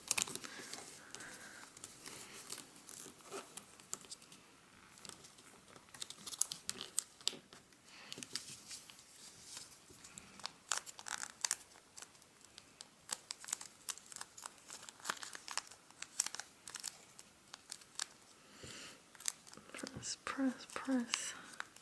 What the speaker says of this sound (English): it's so hard to fold because it's so thick now, the paper, because of the number of creases.